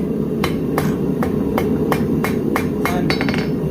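Hammer striking a Viking seax knife on an anvil during hand forging, about ten crisp metallic clinks at an even rhythm, the last few coming faster, over a steady background hum.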